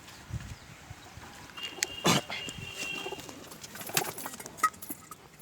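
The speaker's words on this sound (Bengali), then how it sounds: "এই দেখুন সব পায়রা" Pigeons coo softly as their coop is opened after being kept shut during heavy rain, with faint low calls and wing flutters alongside a few brief rattles and clicks.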